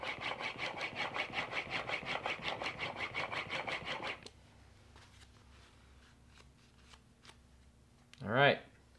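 A new bench chisel is rubbed back and forth on an 8000 grit sharpening stone, making about a dozen rhythmic close scraping strokes that stop halfway, followed by faint handling noise and a brief voice.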